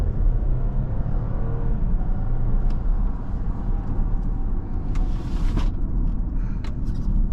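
A 2023 Audi Q7 55 Premium Plus with an 8-speed transmission accelerating, heard from inside the cabin as a steady, loud low rumble of engine and road noise with a few faint clicks over it.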